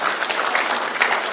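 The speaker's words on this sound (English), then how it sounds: "the biggest applause should go to the awardees tonight" An audience at an awards night applauds the awardees, giving a brief, dense burst of clapping that stays steady and fairly loud throughout.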